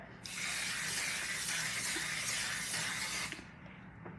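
Makeup setting spray is misted onto a face in one continuous, close, airy hiss lasting about three seconds, with nobody talking.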